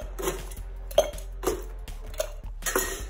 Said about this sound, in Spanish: En el caso de la coctelera de tres cuerpos, uno agrega el hielo.